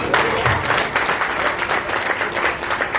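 A crowd at the Shri Ludva Patidar Samaj Mumbai Sneh Milan 2025 community gathering gives hearty, continuous applause during an achievement recognition segment. The clapping is close and steady throughout, with no pause.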